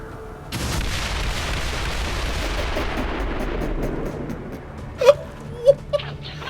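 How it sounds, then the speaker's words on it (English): Rocket barrage detonating in XCOM 2: a sustained rumbling wall of blasts and debris for several seconds, then fading, followed by a few sharp, distinct impacts near the end. "let's start with the rocket barrage"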